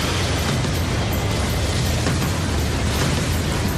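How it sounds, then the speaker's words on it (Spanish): A large gas-leak explosion on a platform: a loud, sustained roar of broadband noise with deep rumbling that holds steady through the whole stretch, with no voices. "segundos después, una gran explosión remeció la plataforma"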